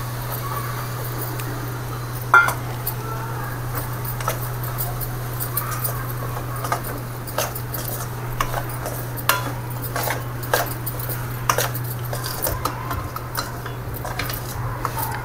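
Semolina roasts in ghee in a pan while being stirred, a soft low crackle under repeated light scraping and clinking of a spoon against the pan, with a steady low hum running beneath.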